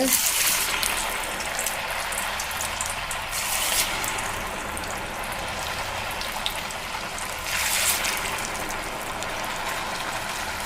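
Sabudana vadas sizzling as they are lowered into hot oil in a home kitchen, a steady broad frying hiss that swells twice in brief louder bursts, with no talk over it.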